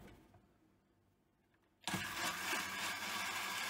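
A kitchen blender switches on after a quiet moment, whirring loud and steady as it blends mint lemonade made with cold water, running continuously to the end.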